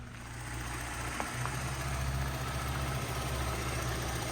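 A 2014 Buick Enclave's 3.6-liter V6 idles smoothly, a steady low hum heard close up that holds evenly throughout.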